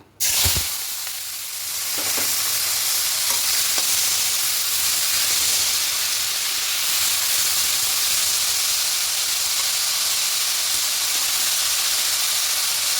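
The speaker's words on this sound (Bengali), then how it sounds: "ভেজে নেব সবজিগুলো ভাজা ভাজা হয়ে এসেছে" Mixed vegetables fry in white oil for a semolina pasta, giving a steady loud hiss and sizzle that fills the whole stretch with no one speaking.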